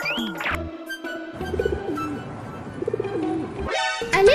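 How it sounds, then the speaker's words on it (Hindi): Soft cooing and chirping calls of a baby pigeon, fairly close, with some rustling and a brief rising whistle-like sweep near the end. "ये तो प्याला सा कबूतर का बच्चा है"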